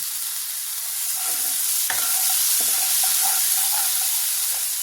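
A paste of green peas, green chili and garlic hits a hot pan, with a sudden burst of loud hissing sizzle partway through that then settles into steady frying crackle and stirring, without any talk.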